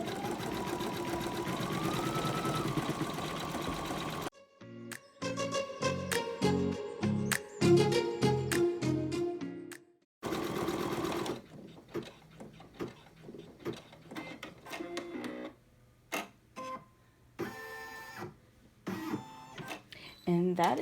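An embroidery machine stitches an in-the-hoop softball bag, its rapid needle chatter running in bursts and pauses with clicking mechanical sounds, close and prominent, while a person talks over parts of it.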